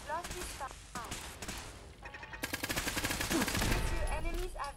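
Gunfire aimed at turrets in the Fallout 4 video game, a fast string of sharp repeated shots building into a steady rapid rattle, with some talking and other game sounds underneath.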